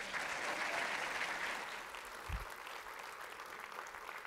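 Faint, distant applause from a conference audience welcoming the keynote speaker at a real estate expo, soft and washy, easing off partway through with a single low thump.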